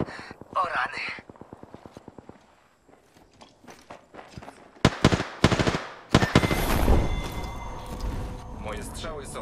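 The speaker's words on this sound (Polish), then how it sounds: "Moje strzały są coraz celniejsze." Rapid automatic gunfire in the video game Apex Legends, a fast rhythmic burst followed by scattered shots and heavier blasts, loud and close, mixed with game effects.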